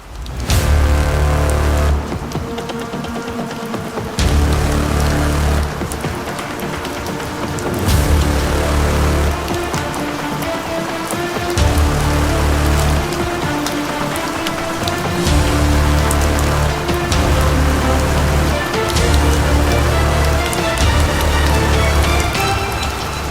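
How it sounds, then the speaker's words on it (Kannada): Torrential overnight rain in Chikkamagaluru pours down hard and steady, flooding homes, its dense hiss broken by rhythmic bursts of heavier drumming on a surface. "ಧಾರಾಕಾರ ಮಳೆಗೆ ಮನೆಗೆ ನುಗ್ಗಿದ ಮಳೆರಾಯ"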